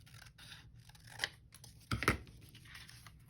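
Scissors snip through paper during a paper craft, a few short crisp cuts with two close snips near the middle, fairly quiet with no talk.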